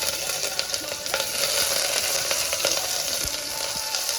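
Sliced onions and chilli fry in about three spoons of oil inside a pressure cooker, an even, close sizzle punctuated by light ticks and crackles throughout.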